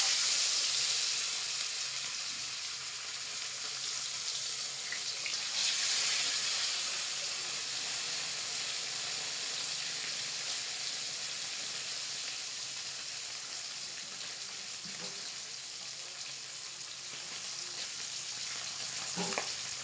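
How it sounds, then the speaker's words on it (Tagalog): Fish frying in hot oil in a pan, a steady soft sizzle and hiss lasting throughout, fairly quiet with occasional faint pops and no talking. "Pag ako magpiprito, mainit ang kawali. Tapos, asali mantika para maganda ang ating isda."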